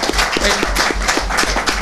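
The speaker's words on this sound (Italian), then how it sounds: "se per cortesia gli possiamo fare un applauso" Applause for an architect at a public civic event in Italy, a crowd clapping steadily with rhythmic claps close by, filling the whole moment without speech.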